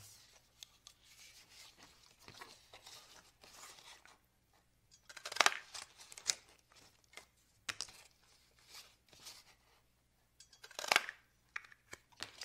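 Scissors snipping through metal foil tape to cut out circles, quiet close-up cuts in irregular bursts with a few sharper, louder snips and soft rustling between.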